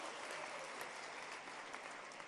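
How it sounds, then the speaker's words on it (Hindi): A crowd at a foundation-stone ceremony for solar parks claps steadily, a dense, even wash of applause from many hands at a distance. "एक बार तालियां बजा के उनका स्वागत कीजिए"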